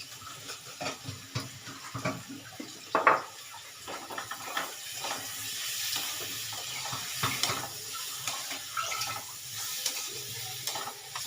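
A little water is poured into a pan of frying spices for a jackfruit and prawn curry, bringing a soft running splash over an ongoing sizzle, with scattered stirring scrapes, close and fairly quiet, with no talking.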